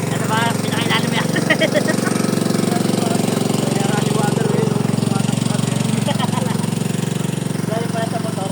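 A motorcycle engine runs steadily and close by throughout, a continuous low rumble with a rapid putter, while faint voices and other noises come and go over it.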